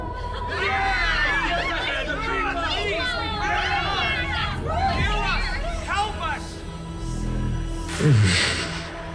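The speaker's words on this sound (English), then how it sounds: "As always, that woman knows how to stir up a crowd." A crowd in the video game Honkai: Star Rail murmurs and chatters in a busy, overlapping babble, with scattered raised voices and a brief laugh-like burst near the end.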